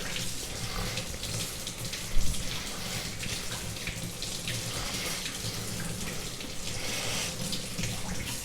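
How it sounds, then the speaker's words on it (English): Water runs steadily from a tap to rinse a ZDP189 knife-sharpening setup with Nano Hone synthetic stones, a continuous hissing splash that holds for several seconds with one brief louder spurt. "So my wife is going to rinse this off."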